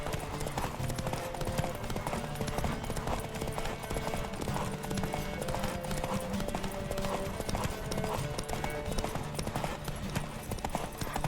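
A horse gallops steadily in The Witcher 3: Wild Hunt, rapid rhythmic hoofbeats continuing throughout at a moderate, even level under game ambience.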